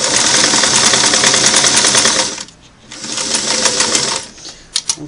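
A Singer Model 338 sewing machine running a single-needle straight stitch, a loud steady rapid clatter that halts briefly near the middle, then resumes and stops again with a few short bursts at the end.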